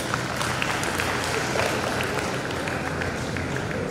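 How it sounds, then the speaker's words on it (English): Applause for the mayor at a live-streamed Universal Greening Organisation ceremony: a steady, dense wash of many hands clapping that holds evenly throughout, with possible voices faintly beneath. "Another round of applause for the mayor."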